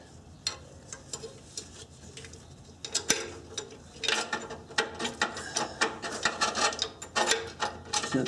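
A hand ratchet clicks in quick, uneven bursts while snugging exhaust mid-pipe fasteners on a Honda Accord, close and fairly quiet, the clicking growing busier toward the end.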